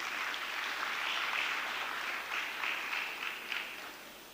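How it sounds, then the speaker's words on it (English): Audience applause at a summit session, a soft, fairly distant wash of clapping that swells and fades over several seconds with no talking. "Warm round of applause, please."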